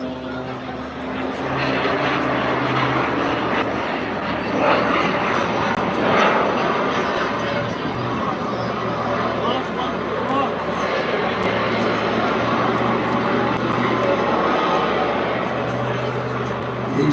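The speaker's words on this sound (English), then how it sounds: "He's juggling all three throttles here to keep that airplane up there." A three-engine airplane performs at an air display, its engines droning steadily overhead with a rising and falling roar throughout, while a commentator talks over the sound.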